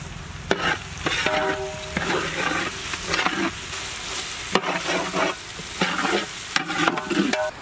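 Ginger garlic paste and sliced green chilies fry in a pan for a fish curry with a steady sizzle. Clattering stirring scrapes come through near and clear at irregular moments, and there is no talk.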